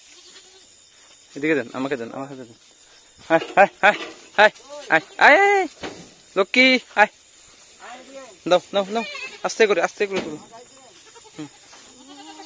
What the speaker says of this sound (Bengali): ফাইনালি ছাগলগুলো গাছিতে উঠে গেল